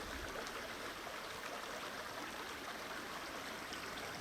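Creek water flows and babbles steadily along the southern shore near an old railway grade, a constant close rushing wash without pauses or voices.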